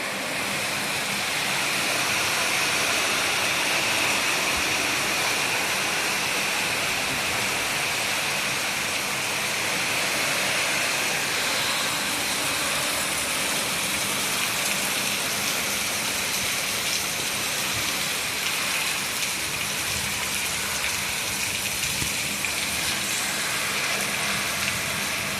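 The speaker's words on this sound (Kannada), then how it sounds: "ಫ್ರೆಂಡ್ಸ್ ಮಳೆ ಎಷ್ಟು ಜೋರದ ನೋಡ್ರಿ" Heavy rain pours at night in a dense, unbroken hiss, loud and steady for the whole stretch, like water rushing over surfaces nearby, with no voices.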